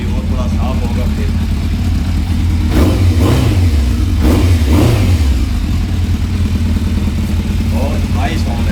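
A Yamaha FZS600 motorcycle fitted with a Remus titanium exhaust revs up close in a few swelling bursts over a steady loud idle, with traffic noise and a voice in the background.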